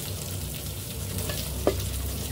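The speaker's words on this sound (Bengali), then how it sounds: "মাছ ভাজা প্রায় শেষ পর্যায়ে" Fish sizzles softly in a frying pan, a low, steady crackle with one brief clatter near the end. Nobody is talking.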